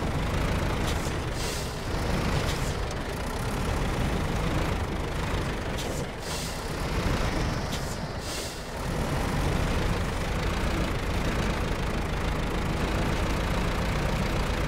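A tractor engine runs continuously at close range, a loud, steady low rumble that rises and dips slightly in level throughout, with no talk.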